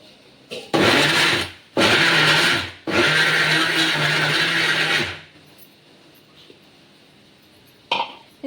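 A kitchen mixer grinds milk powder and milk into a cream, running in three loud bursts of whirring roughly a second, a second and two seconds long, separated by brief pauses, then falling quiet.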